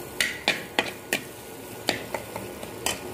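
Ground green peas frying in a pan with Kashmiri chilli for matar nimona, stirred with a spoon in quick scraping strokes that land roughly every third of a second over a low sizzle, close and alone.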